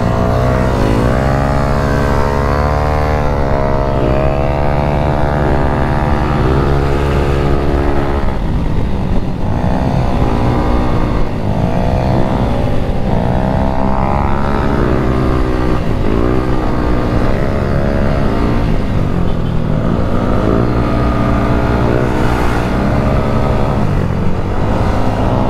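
A motorcycle on a breakfast ride along twisting mountain roads in Bulacan: a loud, close engine drones steadily, its pitch repeatedly climbing and dropping through gear changes and throttle, with no voices heard.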